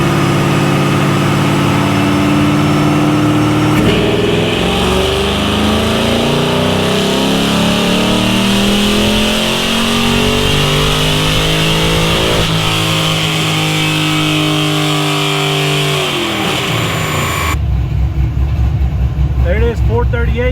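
A Pontiac GTO engine pulls hard on a dyno in a naturally aspirated run, roaring loud with rising harmonics for about seventeen seconds before cutting off to a quieter idle and rumble.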